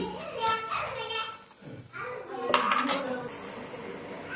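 Grated paneer being stirred into a pan for dhaba-style paneer bhurji, with a metal utensil scraping and clinking against the cookware in steady, close strokes and a short pause partway through.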